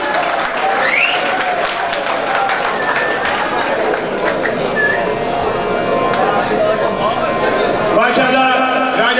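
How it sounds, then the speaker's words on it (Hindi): Audience applause at a commemorative program in Dina, lively clapping mixed with crowd chatter and voices, loud and close, with a brief shift near the end. "जबरदस्त तालियां"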